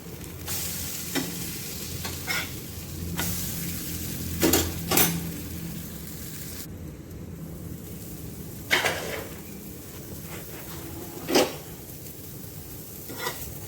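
A capsicum omelette sizzles in a pan while it is stirred and turned, a steady frying hiss broken by several sharp clinks and scrapes of a utensil against the pan.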